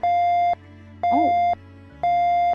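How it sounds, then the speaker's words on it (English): A loud transmitter in a video game gives three steady electronic beeps, each about half a second long and evenly spaced, with a faint low hum between them. "I hate that beeping. That beeping's really loud."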